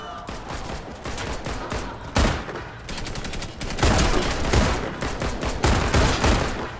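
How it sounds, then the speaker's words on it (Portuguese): Rapid gunfire in a shooter video game, repeated bursts of loud sharp shots crackling one after another across the stretch, with a couple of heavier blasts standing out, close and dominant. "De onde que eu tava tomando esses tiros, família?"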